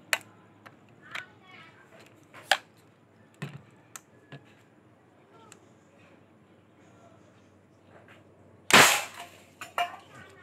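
A homemade PVC pipe rifle fires with sharp, dry snaps and cracks spaced irregularly, some faint and some close, ending in one much louder, longer blast followed by a few more clicks, with occasional voices in between.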